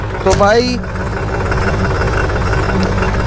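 A tractor engine runs steadily at low pitch while being driven, a continuous rumbling drone throughout, with a voice speaking over it at the start.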